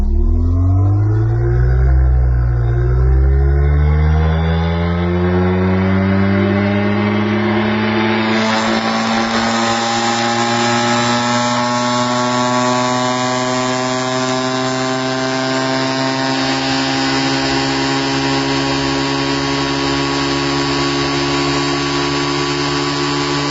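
A cylinder bubbleator machine spins up loudly, its whine climbing in pitch over several seconds before holding a high, steady tone near 8,000 RPM for the rest of the clip.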